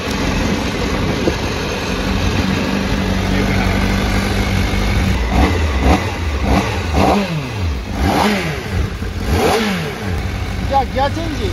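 A Honda CBR1000RR-R superbike, a hand-controlled version at Suzuka Circuit, idles steadily, then its engine is revved sharply several times in quick succession, loud and close.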